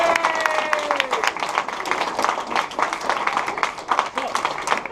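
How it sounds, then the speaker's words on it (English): Audience at a live comedy Dungeons & Dragons show clapping, with distinct claps over crowd noise and some voices, a bright tone at the start, uneven and moderately loud. "let's give her a round of applause"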